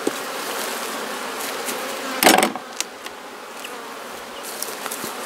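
Honeybees buzz steadily around an open hive while a beekeeper fits a bee escape board and replaces the supers during a gentle honey harvest, with a louder burst of buzzing and a brief thump partway through.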